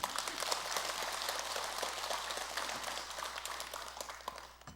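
An audience claps together in a brisk, steady patter, fairly distant and soft, during a Buddhist dharma talk at Jogyesa Temple.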